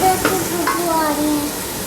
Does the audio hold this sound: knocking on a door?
no